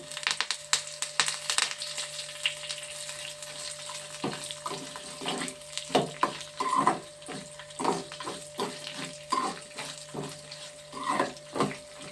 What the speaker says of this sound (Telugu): ఇవన్నీ వేసేస్తున్నాను పోపులు. మరి కరివేపాకు కూడా వేసేస్తున్నాను.